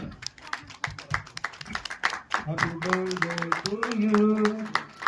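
A film crew claps at a birthday tribute to Dr. Rajkumar, with a brief burst of scattered, close clapping that gives way to voices.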